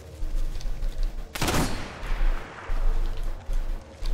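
Gunfire in Apex Legends, a sharp loud burst of shots in the middle standing out over low rumbling background noise, with quieter ambience around it.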